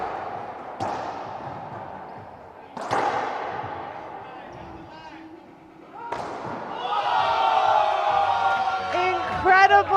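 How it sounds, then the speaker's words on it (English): Crowd at a squash semifinal erupts at match point, with loud thuds of the ball and players followed by swelling cheers and whoops that build to a sustained roar, with commentary over the noise. "The crowd going crazy"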